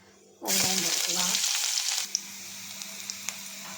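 Mustard seeds, curry leaves and onion hit hot oil for rasam and burst into a loud, close sizzle that settles into steady frying, with a few small pops and stirring clicks.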